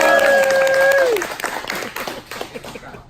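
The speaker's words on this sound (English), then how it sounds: "Let's have some applause for my wife, Irene." Audience applause at a launch-party Q&A panel breaks out as a sustained tone cuts off, with clapping loud at first, then thinning and fading out toward the end.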